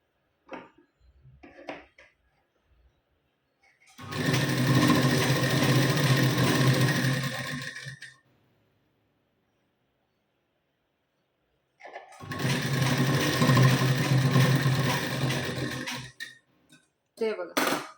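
A sewing machine stitches a blouse seam in two sustained bursts of rapid, even whirring, separated by a quiet pause, with brief handling clicks before and after.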